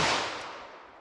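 A single sharp .327 Federal Magnum gunshot into ballistic gel cracks loud and close at the start, then decays over about a second of fading echo.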